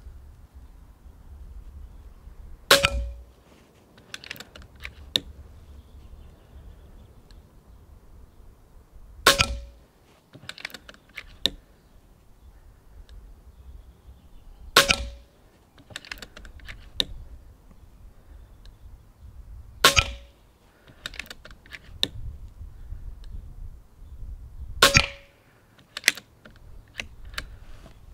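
An FX air gun fires slugs at bulletproof glass outdoors over about 25 meters, five sharp cracking impacts spaced roughly five seconds apart, each with a short ringing tail and smaller clicks between, with no talk.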